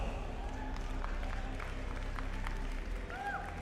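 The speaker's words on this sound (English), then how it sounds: "Give yourselves a round of applause." An audience at the first day of a convention applauds itself, scattered and fairly distant clapping beneath a loud low hum and murmuring crowd voices, with no clear peak.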